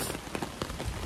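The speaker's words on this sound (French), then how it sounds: "C'est une blague la pluie en fait." Heavy rain pours onto a hard surface in a dense, continuous patter of drops, close and fairly quiet, with no voices.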